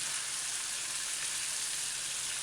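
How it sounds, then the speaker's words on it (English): Pieces of fish and peppers sizzle steadily in a stir fry pan over a medium-low stove, making a close, even, hissing crackle with no voices. "make sure all the pieces are frying properly"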